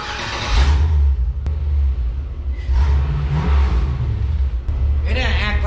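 The LS-swapped engine of a 1999 S-10 pickup revs in several loud, close surges with low rumble as the truck is shifted into reverse, and someone talks between the revs.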